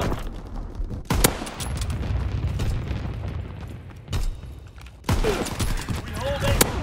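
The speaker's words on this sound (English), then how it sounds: "Anti-aircraft battery in position. Ready to deny the skies on your order." Anti-aircraft guns fire in a war video game, with heavy booming bursts and rumbling barrages cracking out at intervals over a constant low roar of battle, while voices speak throughout.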